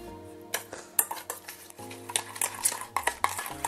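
Rapid metallic clinks and scrapes of a utensil whisking teriyaki sauce with sugar and a little cream in a bowl, close and busy with irregular rhythm.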